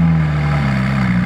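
A McLaren 675LT Spider with a titanium exhaust gives a loud, deep, steady engine note in a brief burst, with no talk.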